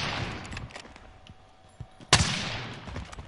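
Gunfire in a Call of Duty Warzone match, a loud sharp shot cracking out near the end over a busy, noisy game soundscape of scattered smaller reports and rumble.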